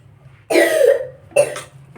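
Two harsh coughs from one person, close and loud, about a second apart, with a faint short throat sound trailing after.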